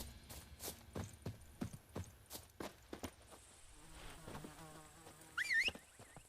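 Horse hooves clip-clopping in The Witcher 3, a quick regular run of hoof strikes drawing nearer, with a faint buzzing tone and a brief warbling whistle near the end, no talk.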